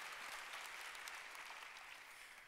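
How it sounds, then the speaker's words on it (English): Audience at a Broadway in Columbus season announcement applauding, a steady wash of many hands clapping that holds evenly and eases slightly toward the end. "One more round of applause."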